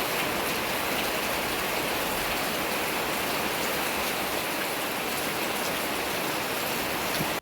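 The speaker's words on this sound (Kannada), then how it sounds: "ಮಳೆ ಬಂತು" Rain pours down steadily in a village, an even, dense patter with a constant wash of hiss and no voices.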